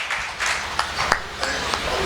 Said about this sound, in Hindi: आपने मेरे सम्मान में जो जोरदार तालियां बजाई हैं